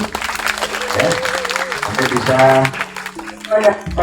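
Applause from a school extracurricular gathering at a Hindu pasraman in Rawamangun rises under ongoing talk, steady and fairly loud throughout.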